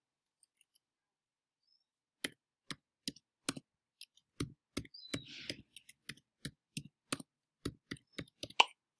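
Sharp, distinct keyboard key clicks tap out one by one at a steady, unhurried pace after a brief near-silent start, close and clear with no talking.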